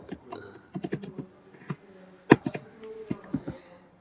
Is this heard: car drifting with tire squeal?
no